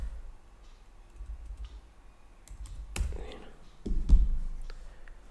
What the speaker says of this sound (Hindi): उस नंबर को मैं यहाँ पे मैं एंटर कर देता हूँ।